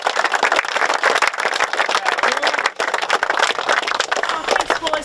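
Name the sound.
applause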